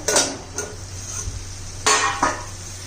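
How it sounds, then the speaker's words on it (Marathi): A metal lid lifted off a cooking pot of simmering vegetable curry, a couple of sharp clanks and scrapes of metal over a faint sizzle. "आता झाकण काढून पाहूया"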